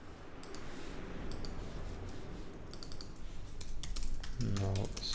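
Quick bursts of computer keyboard typing while designing an iOS app come as clusters of crisp clicks, separated by pauses, with a voice talking over parts of it.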